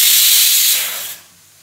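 A pressure cooker vents steam while lunch cooks: a loud, steady, close hiss that holds for about a second, then fades quickly and leaves near silence.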